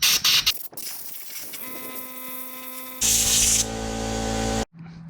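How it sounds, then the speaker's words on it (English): Compressed air hissing loudly at close range as it blows dirt off a Craftsman WeedWacker carburetor, with a few short bursts and then one long sustained blast that cuts off abruptly, and no talking. "I'm gonna push the carburetor up against the WeedWacker here, like I'm doing, and I'm gonna blow all that dirt off there and stuff."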